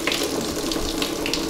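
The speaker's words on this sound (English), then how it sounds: "Let's turn the water on." A tap is turned on to fill a bath, and water gushes and splashes steadily at close range with no talk over it.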